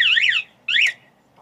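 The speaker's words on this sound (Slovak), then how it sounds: "To, čo sme počuli, bol taký prvý alarm, ktorý sa spustí pri prvom narušení polohy motorky." A VAM MOT motorcycle alarm, set off by moving the bike, gives two short loud warbling electronic bursts close up with a brief gap between them, heard alone.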